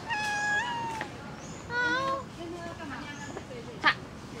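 A cat in a botanical garden gives several drawn-out, rising and falling meows close to the recording, spaced across a few seconds. A sharper cry comes near the end. A person's voice calls between the meows.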